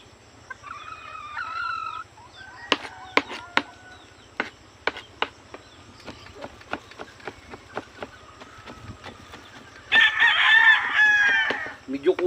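Chickens at a poultry farm cluck near the start, then a rooster crows loudly near the end, while sharp chopping knocks tap out an irregular rhythm in between.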